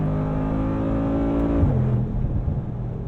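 A 577-horsepower 2021 Mercedes-AMG G63 pulls hard from inside the cabin, its engine droning steadily upward before a quick gear shift drops the pitch and the rising pull resumes, loud and close.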